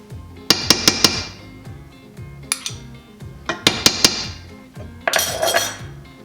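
A metal utensil spreading melted butter and garlic over homemade croutons in a pan, sharp clinks and scraping taps in quick clusters, close and crisp, with soft sizzling between strikes.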